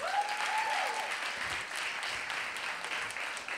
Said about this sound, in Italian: un applauso a Simone